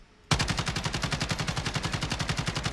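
Automatic gunfire in a video game shooter, a sudden sustained burst of rapid, evenly spaced shots, loud and continuous for over two seconds.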